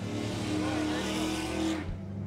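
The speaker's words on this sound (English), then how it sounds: "That's Pete in his 2001 Camaro." A 2001 Camaro's engine roars loudly at high revs as it races past on a drag strip, then cuts off abruptly; a voice is heard over the noise.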